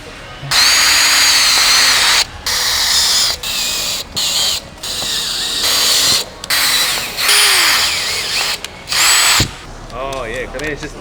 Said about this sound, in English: Then we can drill some pilot holes and bolt it to the bumper.